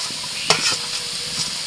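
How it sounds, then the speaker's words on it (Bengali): Potato and bitter gourd pieces sizzle steadily in hot oil for a village-style egg thali, with a sharp spatula scrape against the pan midway and softer stirring clatter around it; no talking. "এইরকম নাড়াচাড়া করতে করতে আলুটাকে ভালো করে ভেজে নিতে হবে"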